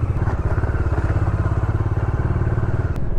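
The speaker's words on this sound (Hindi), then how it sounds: "लगभग आधे घंटे से मैं बाइक राइड कर रहा हूँ।" A motorcycle ridden on the road outside Bangalore, its engine thumping loud and close in a rapid steady pulse, with wind rush over the top.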